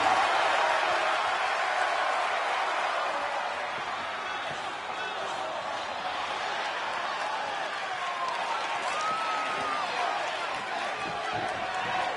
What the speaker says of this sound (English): Listen to the noise from this crowd.